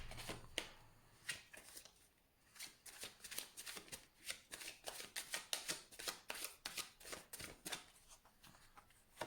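Tarot cards being shuffled by hand in a quiet room, a steady run of crisp, close riffling flicks and soft slaps repeating over about nine seconds, with no talking.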